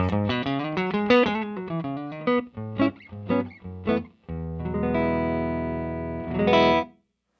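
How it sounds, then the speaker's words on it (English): Electric guitar, a Morgan PR12 amp played clean and dry with no pedals: a run of picked notes and chords, then sustained strummed chords ringing out and stopping abruptly. "so you're hearing the amp completely dry"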